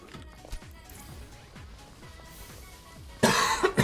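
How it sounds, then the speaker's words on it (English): A person coughing during an Overwatch game stream, with a harsh burst near the end over faint game sounds and repeated soft footstep-like thuds. "I'm coughing."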